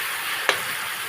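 Garlic, onion and tomato sizzle steadily in a pan, a close frying hiss broken once by a short sharp crackle as something drops in.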